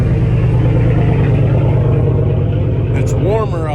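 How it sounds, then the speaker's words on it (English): A 2004-2008 Pontiac Grand Prix engine runs with a steady, loud, low rumble close by. A brief voice-like sound rises near the end. "we're gonna get the car started"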